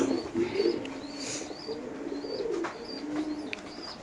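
Pigeons coo softly at a pigeon farm, a few low burbling calls repeating over faint background chirps and ambient noise, with no talk.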